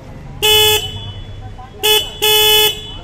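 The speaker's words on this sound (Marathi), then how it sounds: "हॉर्न हॉर्न बघू कसा वाजतो" Three bright horn beeps from a 2024 Bajaj Pulsar 150 N motorcycle sound up close, one short toot followed by two more, the last held longest, over a quiet idling background.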